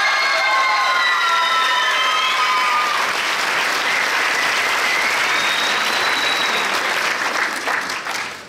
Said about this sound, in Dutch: uw applaus voor Emily Carmona.